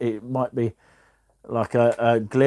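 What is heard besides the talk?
No distinct noise like a dog, phone or traffic.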